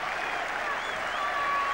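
A packed Old Trafford cricket crowd applauding a batsman off the field during the 1981 Ashes series, a dense, continuous roar of clapping from the stands, with a commentator's voice faintly above it.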